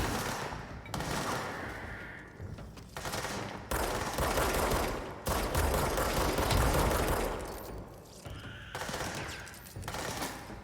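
Rapid bursts of enemy gunfire in the video game Control, loud and sustained automatic fire with brief pauses between volleys, no voices.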